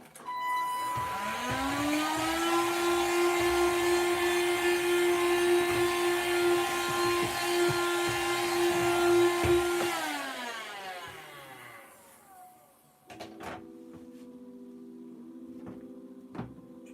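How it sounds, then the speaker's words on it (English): A Hoover vacuum cleaner sucking up dust starts with a rising motor whine, holds a loud, steady drone for about nine seconds, then winds down and fades, leaving quieter scattered knocks afterward. "I'll get my hoover first, get rid of this dust."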